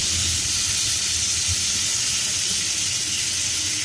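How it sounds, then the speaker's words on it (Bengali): Crabs and two potatoes fry in oil, a loud, dense, continuous hiss of sizzling close up and steady from start to end. "কাঁকড়গুলো এখন ভেজে নিচ্ছি, আর সাথে আমি 2টা আলুও দিচ্ছি।"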